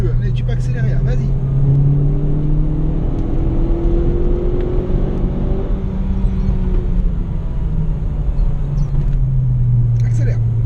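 A Renault Clio 4 RS accelerates on the Bourbonnais race circuit, its engine a loud, steady in-car drone with rising pitch sweeps as it gathers speed, and an instructor's voice speaks over the engine.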